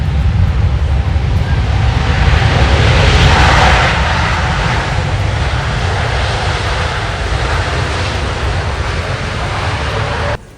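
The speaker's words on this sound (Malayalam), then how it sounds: "ഇപ്പോൾ ലാൻഡ് ചെയ്യുന്നത് എയർ ന്യൂസിലൻഡിൻ്റെ ഓക്ലൻഡിൽ നിന്നും 10 മണിക്കൂർ മുമ്പ് ടേക്ക് ഓഫ് ചെയ്ത ബോയിങ് 777 വിമാനമാണ്" An Air New Zealand Boeing 777 airliner lands after a flight from Auckland, its engines giving a loud, sustained roar that swells and then settles into a steady rumble with some wind noise.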